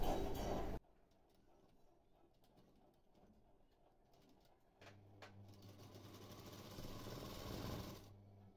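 A sewing machine double-stitching the shoulder of a dress, starting with a loud burst and then running in a steady, fast chatter, with pigeons cooing in the background and no speech.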